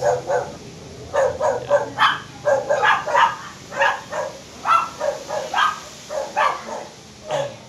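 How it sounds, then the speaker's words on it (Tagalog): A dog barks repeatedly in quick bursts, a steady series of yaps at moderate distance with light background noise and no talking. "Ang ingay ng aso."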